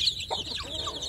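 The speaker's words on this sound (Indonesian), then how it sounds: "anak ayam kampung digabung dengan induk, berada dalam satu kotak" Village chicks and a mother hen in a plywood box, soft clucking and high cheeping chick peeps heard close up over a brief moment.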